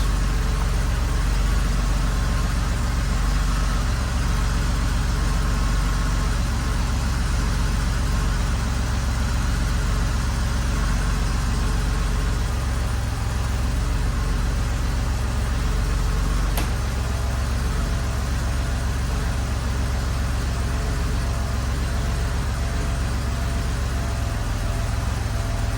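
A warmed-up Porsche 964 with its stock exhaust is revved to about 4,000 RPM, heard from roughly ten feet behind the exhaust outlets: a loud, steady, sustained engine drone with no talking.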